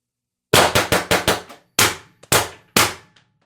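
X-68 Punisher spring blaster with a 22mm OD bolt spring fires in auto mode: five sharp, loud snaps in quick succession, then three more spaced-out shots, each with a ringing decay, no talking.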